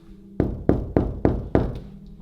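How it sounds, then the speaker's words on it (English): Five evenly spaced knocks on something in a reputedly haunted Montana building, each a loud close thud with a short ring, in a quiet room with no talking. "And knock on something?"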